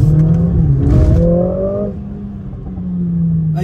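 A Mercedes-AMG A45 S revs hard on a Paris street, its close, loud engine note climbing steeply in pitch for about a second before easing back to a steady drone, with no talking.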